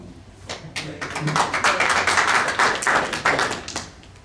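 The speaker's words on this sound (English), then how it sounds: "What's the applause?" Applause from a small board-meeting audience right after an oath of office, a steady patter of many hands clapping for about four seconds with a few close sharp claps, no talking over it.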